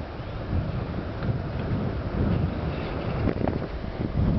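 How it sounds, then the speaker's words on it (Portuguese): Strong headwind roars and buffets a microphone on a long bicycle ride between Kemi and Rovaniemi in Finland, a steady, loud rushing blast with gusty swells and no speech. "Vento, ixi, tá contra hoje."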